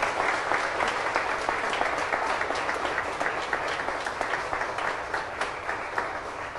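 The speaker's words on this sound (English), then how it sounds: "This is a time for you to applaud." Steady applause from a church congregation during a Sunday service, a continuous hiss of many hands clapping at moderate level, evenly sustained throughout without pause.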